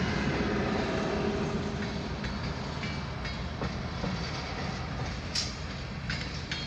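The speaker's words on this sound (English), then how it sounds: "That's a short NS train, yep." A short Norfolk Southern C29 local freight train rumbles steadily past up close, a continuous loud roar of wheels on rails with occasional clanks and a brief squeal near the end.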